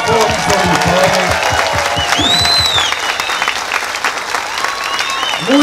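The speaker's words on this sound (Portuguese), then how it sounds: "Uma forte salva de palmas." Big crowd at a Brazilian political rally applauds and cheers for the president, dense clapping with shouts and whistles over a voice that fades as the noise continues.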